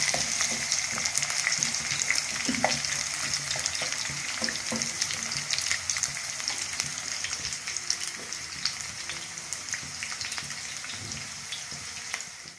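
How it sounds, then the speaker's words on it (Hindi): Onions frying in a pan until light brown for a chicken dish, a steady close sizzle with occasional stirring scrapes, no talking. "अब ये प्याज फ्राई हो गया, लाइट ब्राउन हो गया।"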